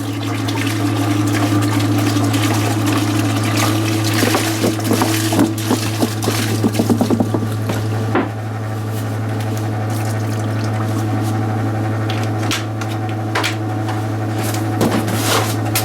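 Windshield washer fluid pumped into a tractor tire for ballast, a steady continuous liquid-pumping drone with a low mechanical hum and sloshing, gurgling water running throughout.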